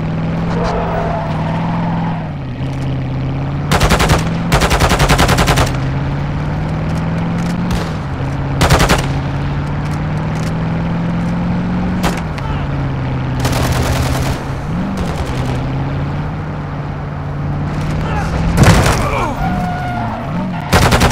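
Bursts of gunfire in a Call of Duty battle royale match, several rapid volleys spaced across the span over a steady low engine-like drone, fairly loud and close.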